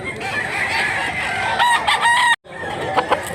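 Roosters crow loudly and repeatedly as hens cluck close by, among many chickens at a farm housing lots of fowl, with the calls overlapping and continuing without pause.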